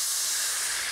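A hot pan hissing loudly and steadily as vinegar deglazes it, one continuous close sizzle of steam with no break and no voices.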